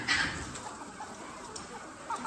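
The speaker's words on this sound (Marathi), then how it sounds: "हे आपल्या प्युअर गावठीमध्ये अशा कोंबड्या आहेत" Village chickens in a poultry farm shed cluck softly nearby in a short burst of low, scattered clucks against a quiet background.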